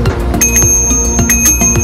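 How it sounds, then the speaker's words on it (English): A bicycle bell on a Bavarian e-bike tour rings bright and metallic several times in quick succession, close and clear, with no voices. "We've got our bell,"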